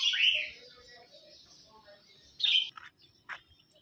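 Bright, shrill cockatiel chirps ring out in a few short bursts, close by, separated by quieter gaps with faint background murmur.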